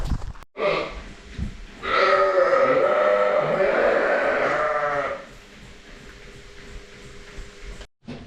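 A goat on a farm in Norway lets out a long, wavering bleat of about three seconds, fairly close, followed by quieter background noise and a few faint knocks.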